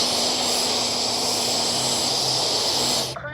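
HobbyKing FlyCat V2 RC plane's electric motor and propeller whirring steadily and fairly loud with a constant tone, cutting off abruptly at the very end.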